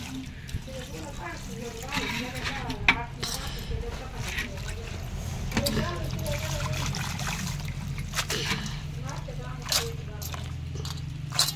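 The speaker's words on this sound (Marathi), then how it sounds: "दोन पाण्याने चांगले धुवून घ्यायचे आहे का नाही?" Water sloshes and trickles as leafy greens are swished around in a basin, with a voice talking over the splashing.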